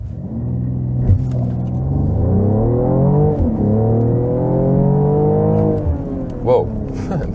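A Mercedes-AMG GLE 53 Coupé accelerates hard from a standstill to about 90 km/h under sporty driving, its engine note climbing steadily and loud through the gears for several seconds, heard from inside the cabin.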